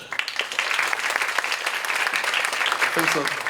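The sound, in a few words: audience applause for speaker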